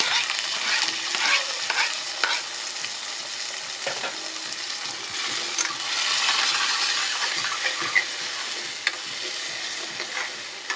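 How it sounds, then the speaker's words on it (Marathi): Tomatoes dropped into fried onions set off a continuous, close sizzle in the pan, with clinks and scraping as the mixture is stirred throughout. "कांदा फ्राय झालेला आहे टोमॅटो टाकून घेऊया"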